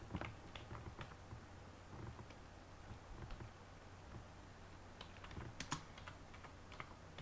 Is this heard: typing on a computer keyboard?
yes